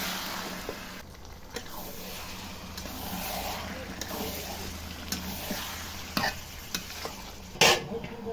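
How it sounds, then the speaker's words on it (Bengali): Washed meat frying and being stirred with cooked-down spices in a pan for a work crew's meal, a steady close sizzle with scraping stir strokes and occasional louder clanks, no talk. "এখন ধুয়ে রাখা মাংসটা দিয়ে আমি মাংসটা ভালো করে কষিয়ে রান্না করে নেব।"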